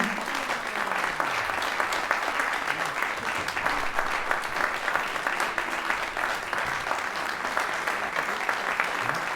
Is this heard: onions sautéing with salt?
no